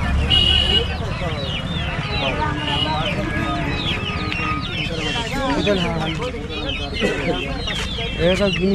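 Chickens cluck and squawk continuously at close range at a busy tribal village market, their calls overlapping with background chatter and crowd noise throughout.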